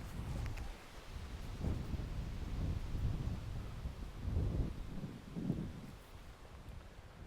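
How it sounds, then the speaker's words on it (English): Strong wind sweeping across a golf course, a continuous low roaring buffet against the microphone with gusts swelling and easing throughout; loud and steady, no voices. "I'm telling you, this wind is really strong."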